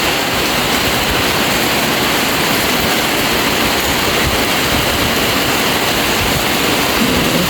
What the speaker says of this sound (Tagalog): Simula na ng ulan dito sa Daet.